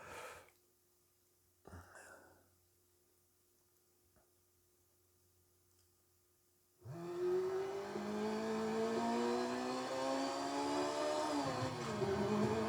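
A car engine in Burnout on the PSP video game, rendered at 2K, starts with a few faint knocks, then settles into a loud, steady drone with a rising, revving pitch that continues to the end.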